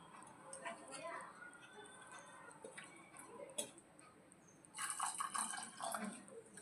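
Water is poured bit by bit into dosa batter and stirred in, giving close, wet ticking and sloshing sounds, then a louder splashy burst of mixing near the end, with a voice heard at times.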